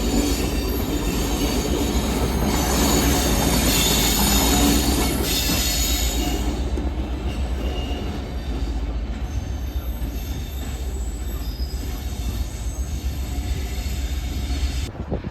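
A train passes through Carlisle station with a Class 57 diesel locomotive on the rear during East Coast Main Line diversions. Loud, close rumble, wheel squeal and rail clatter fade after about seven seconds into a steady, quieter roll.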